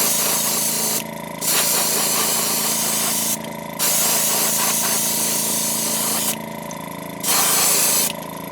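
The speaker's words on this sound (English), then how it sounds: "Createx opaque white. Get that first base coat on." Createx opaque white base coat airbrushed onto a crankbait: three steady hissing spray bursts of a few seconds each, with short pauses between, close up over a constant low compressor hum.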